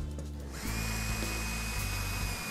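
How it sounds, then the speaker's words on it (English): A power drill drives a screw tight into a pre-drilled hole while a bulkhead bar is fitted. The motor whirs steadily and close by for about two seconds after a short pause. "Put the screw into place and fasten it tight."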